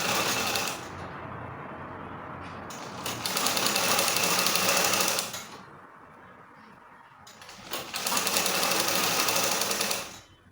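A sewing machine stitches a trouser pocket in two long bursts of fast, even whirring, each stopping into a quieter pause with faint handling sounds.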